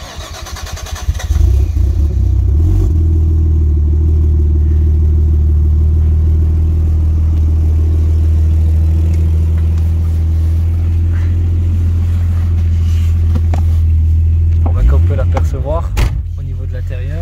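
A Nissan R33 Skyline with an RB25 engine turns over and fires, settling into a loud, deep, steady idle that rumbles close by for most of the stretch before a brief burst of revving and clicks near the end.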